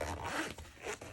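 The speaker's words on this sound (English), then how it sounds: "so I'm hoping that this will still zip." A zipper drawn closed on a cash envelope folio, one quick continuous rasping pull heard up close with no talking.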